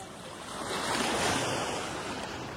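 Strong sea wave breaking along the shore while people gather large shells, a broad steady roar of surf and wind that swells gently and fades, heard alone with no talk.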